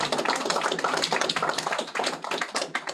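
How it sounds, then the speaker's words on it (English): A crowd claps in applause at a conservation corps launch event in Guam, dense rapid hand claps loud and close for a few seconds with no speech over them. "Can we give this man a round of applause,"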